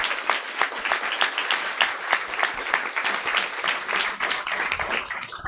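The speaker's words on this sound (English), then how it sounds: "round of applause." An audience at a New Italian Cinema film screening event applauds warmly, giving dense, sustained clapping from many hands that fills the room and stays even and loud throughout.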